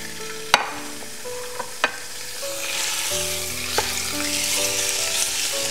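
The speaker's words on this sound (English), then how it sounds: "Now my pan is hot, so I'm gonna add my sausage." Sausage dropped into hot olive oil in a Dutch oven, with a steady close sizzle that swells as more meat goes in and a few sharp clacks of a utensil against the pot, music running faintly beneath.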